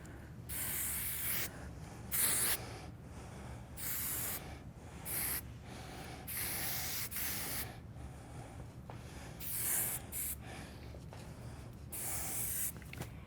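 Repeated bursts of medium-hold hair spray hiss out in short and longer sprays with brief pauses between them, close and fairly loud.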